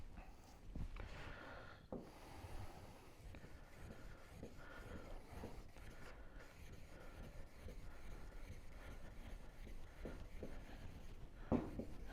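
A permanent marker is rubbed across bare car body metal as a guide coat, giving a faint, continuous dry squeaky scribbling with soft irregular strokes in a quiet room.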